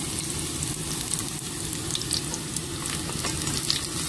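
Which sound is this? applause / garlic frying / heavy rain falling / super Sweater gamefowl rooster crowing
garlic frying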